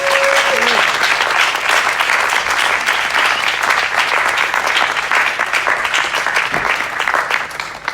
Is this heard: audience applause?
yes